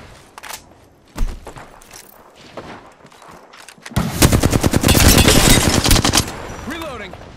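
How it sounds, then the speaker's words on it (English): Apex Legends gunfire: scattered single shots and thuds at first, then a dense, loud automatic burst of rapid shots lasting a couple of seconds before it tapers off. "Opening fire."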